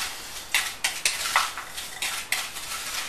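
Ghee spooned back into a pan on a stove, with a series of close metallic clinks and scrapes of a utensil against the pan and a faint sizzle beneath, with no talking.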